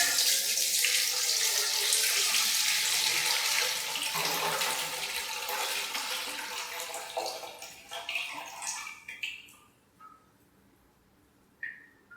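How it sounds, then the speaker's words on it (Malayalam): Homemade gooseberry wine pours steadily through a strainer in a broad rushing stream for about eight seconds, then thins to a few trickles and drips before falling quiet. "ഈ അരിപ്പ വെച്ചിട്ടാണ് ഒഴിക്കുന്നത്"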